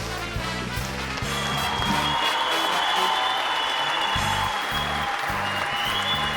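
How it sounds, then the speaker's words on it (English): A crowd claps and cheers continuously, a dense wash of applause that holds steady for several seconds. "Thank you for the applause, boys."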